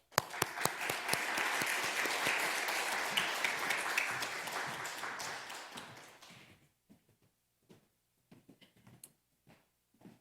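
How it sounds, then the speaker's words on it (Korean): Church congregation at a Wednesday worship service giving warm applause as the pastor comes forward, dense steady clapping for about six seconds that fades out into a few scattered, isolated claps and taps. "뜨거운 박수로 영접하도록"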